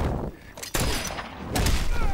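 Gunfire in Mortal Kombat XL from Erron Black, a few sharp loud shots and booming impacts in quick succession amid game noise, with a voice talking.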